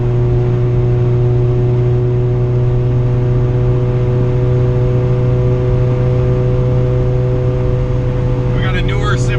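Turbocharged high-boost Honda Civic GSR on a Hondata S300 tune, with a steady, loud engine drone held throughout a street pull, strong low harmonic tones with no break and a brief higher rattle near the end.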